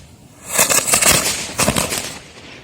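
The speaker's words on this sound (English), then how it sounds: "when we start burning it, it's just going to go on the black match only" Firework black match fuse burning and igniting, a loud close burst of dense crackling and popping that surges, dips, then flares again before fading, with no voices.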